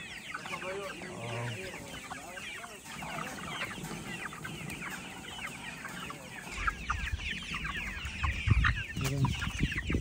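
Many chickens clucking and squawking close by in a busy flock in San Miguel, El Salvador, with faint voices and rustling underneath.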